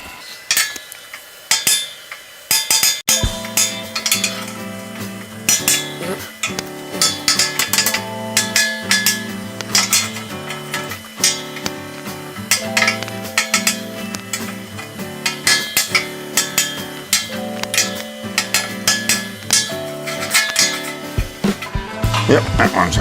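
Repeated hammer strikes ring out while building a chop saw table, sharp metallic and wooden knocks in a steady, busy rhythm over continuous workshop clatter, close and fairly loud for most of the stretch.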